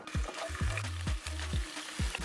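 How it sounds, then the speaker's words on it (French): Onions fry in oil in a pan with a constant sizzle, broken by regular low thumping knocks as the pan or spoon is moved. "Puis on ajoute nos oignons."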